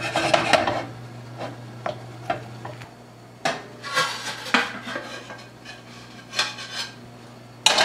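A utensil scrapes and clatters against a pan while stuck asparagus is loosened for an Easter frittata. Irregular metallic knocks and rubbing sound close and loud over a steady low hum.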